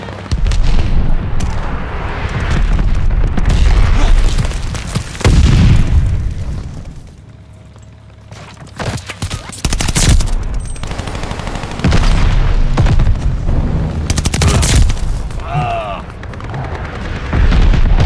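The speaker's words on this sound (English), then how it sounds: "Friendly bombing run on the way" Bombing run in Call of Duty: Vanguard multiplayer brings a dense barrage of loud booming explosions and gunfire, with rumbling blasts rolling on and off and a brief lull midway, while game voice callouts sound over the combat.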